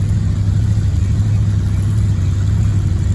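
Car engine running loud and close, a steady deep rumbling drone with a low throb that holds through the whole stretch, no talking over it.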